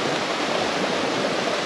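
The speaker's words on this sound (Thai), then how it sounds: "มันเป็นน้ำตกเนี่ยน้ำตก" A waterfall in Chiang Mai pours with a steady, full rushing roar, loud and unbroken, with no voices.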